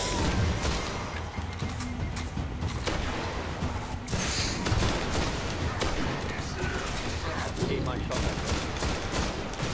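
Dense gunfire in the Destiny video game, loud, continuous rapid shots and bursts layered together with crashes and impacts throughout.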